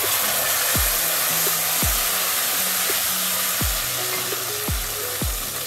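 Tomato puree goes into hot oil with cinnamon, cloves and small cardamom for a paneer dish, producing a loud, steady, close sizzle with a few low thuds from stirring.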